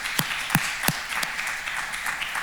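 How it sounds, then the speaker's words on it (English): An audience at an engineering ethics lecture applauds, a steady wash of many hands clapping with a few sharper nearby claps standing out. "Give Jen a clap"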